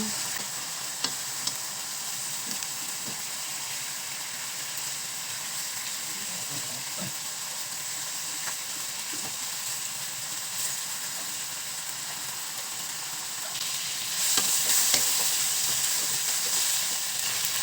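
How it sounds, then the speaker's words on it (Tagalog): Chicken pieces fry steadily in a pan with a continuous close sizzle, brief stirring scrapes, and a louder hissing surge near the end as the pieces are turned. "Flip na natin ang ating chicken."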